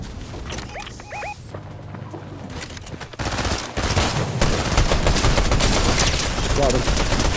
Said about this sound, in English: shooting a guy